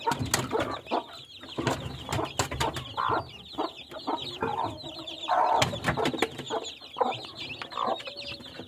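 Broody hens cluck repeatedly in a farmyard, their short clucks and calls overlapping at close range amid rustling and knocking sounds.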